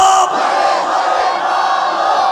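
Large crowd at an outdoor Islamic sermon gathering shouting a takbir together in one sustained, loud unison roar.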